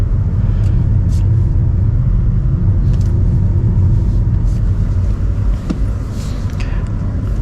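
A MINI Cooper SE electric car pulls away with its air conditioning running, heard as a steady, loud low rumble of road and cabin noise with faint ticks above it and no talking.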